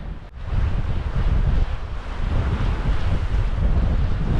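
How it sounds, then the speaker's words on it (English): Strong evening wind on a jetty at Esperance, Western Australia, buffets the microphone with loud low rumbling gusts, rising and falling continuously, with a sea-like roar underneath. "I don't know if you can hear me over the wind"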